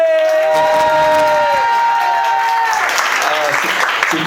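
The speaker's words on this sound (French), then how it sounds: "un tonnerre d'applaudissements pour moi" A stand-up comedy audience breaks into loud applause mixed with cheering and whoops, sustained throughout and swelling toward the end, with some voices shouting over the clapping.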